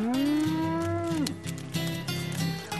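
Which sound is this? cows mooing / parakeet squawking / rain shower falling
cows mooing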